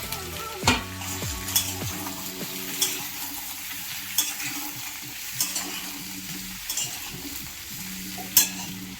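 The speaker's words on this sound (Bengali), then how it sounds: "সমস্ত সবজিগুলোকে ভালোভাবে ভেজে নিতে হবে" Mixed vegetables fry in a karai with panch phoron, bay leaf and slit green chillies, a steady soft sizzle broken by a spatula scraping and knocking against the pan roughly every second.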